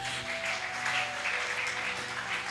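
A church congregation applauds steadily during a French-language service, the clapping filling the room over sustained keyboard tones.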